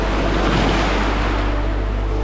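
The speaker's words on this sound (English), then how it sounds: "Another wave coming through here." Ocean waves surge steadily onto the rocky shore of Cape Breton Island, Nova Scotia, on the Cabot Trail, a loud, continuous wash of surf with wind rumbling across the microphone and no voices.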